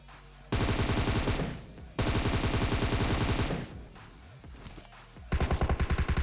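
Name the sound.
gunfire while pre-firing into a building, video game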